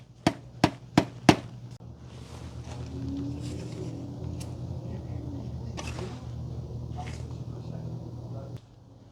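Four sharp, evenly spaced mallet taps drive a part into a ZF 5HP-19FLA transmission housing, crisp and close, followed by quieter clanks and handling noise over a low background hum.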